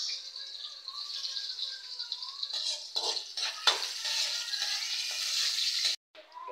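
Garlic and onion sauté together in a pan for a sardine and papait vegetable dish, a continuous bright sizzle with a few utensil clinks and scrapes partway through, ending abruptly.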